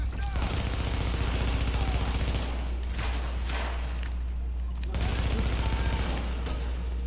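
Automatic gunfire aimed at the player in The Division, rapid rattling bursts over a constant low rumble, loud and close, coming in two stretches with a quieter gap between.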